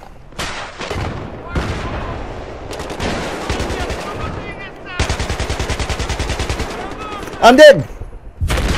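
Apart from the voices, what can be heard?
explosion and gunfire in video game Battlefield 3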